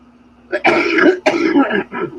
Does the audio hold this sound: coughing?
yes